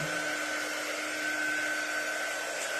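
A hair dryer blows a steady, close, continuous whir with a constant hum over a freshly applied paint transfer on farmhouse butterfly decor, running evenly throughout without any talk.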